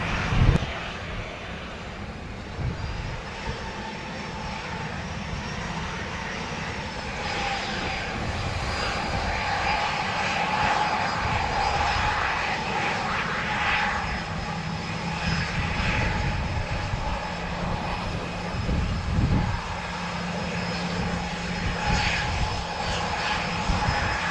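Airliner lining up on the runway and taking off, with a heavy continuous jet engine roar building and rumbling steadily at a distance, alongside faint tower radio chatter.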